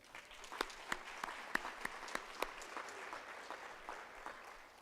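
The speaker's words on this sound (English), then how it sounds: "a huge round of applause." At a presidential installation ceremony, the audience applauds the orchestra after the national anthem: quiet, distant clapping with several sharper individual claps standing out near the start before the sound thins and fades.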